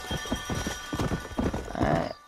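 Horse hooves clip-clop in a quick trotting rhythm in Red Dead Redemption. The hoofbeats are close and clear, and a short whinny-like burst comes near the end.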